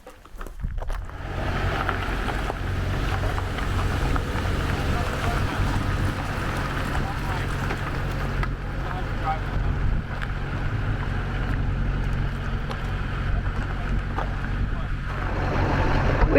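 Boats launching at the Echo Bay boat launch on Lake Mead, with a steady broadband wash of engine rumble, lapping water and light wind noise that continues without a break.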